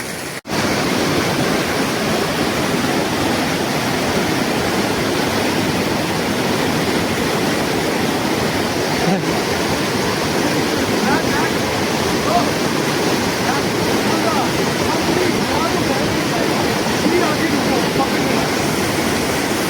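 Water pours steadily out of a mountainside in a rural Azad Kashmir village, a loud, continuous broadband rush like a waterfall that runs close and unbroken for the whole stretch.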